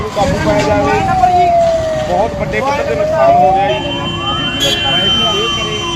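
A fire engine siren wails up and down, loud and near, over rumbling traffic and a crowd talking, at a roadside fire where cars are burning in a village.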